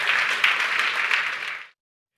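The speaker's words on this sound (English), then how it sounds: "Let's give Kyle a big round of applause." An audience gives Kyle dense, even applause at a chargeback operations talk, a steady wash of clapping that stops abruptly.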